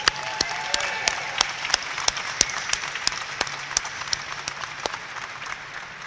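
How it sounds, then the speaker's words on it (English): An audience applauds at a women's basketball press conference, a steady dense patter of many hands clapping with occasional sharper individual claps standing out, moderately loud and sustained throughout. "Let's please give them a tremendous round of applause."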